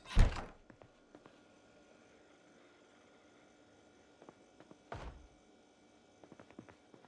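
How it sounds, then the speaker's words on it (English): Two dull thuds of someone banging on a door somewhere in a house in the zombie survival game Project Zomboid, one at the start and another a few seconds later, over a quiet ambient hum. "Someone is banging on the door somewhere in the house."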